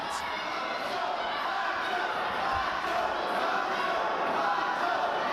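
A dense wrestling arena crowd roars and chants in a steady, broad wash of noise at a distance, unbroken across the moment.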